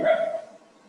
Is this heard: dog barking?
yes